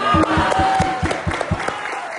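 A studio audience at a comedy talk show claps in an even, rhythmic beat of about eight sharp claps, fairly close and loud, fading a little toward the end.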